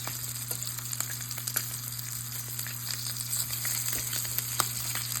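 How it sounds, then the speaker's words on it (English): Sausages sizzle and brown in a hot pan on medium heat, a steady close crackle with small pops and no voices. "As you can see, our sausage is starting to brown up. And I'm just going to continue to flip."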